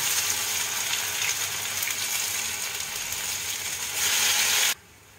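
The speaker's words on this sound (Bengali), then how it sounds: "ঠিক ওইভাবেই আমি বাকি বড়াগুলো ভেজে নেব।" Poppy seed fritters (posto bora) frying in hot oil, a loud, steady, close sizzle that holds evenly and then cuts off abruptly near the end.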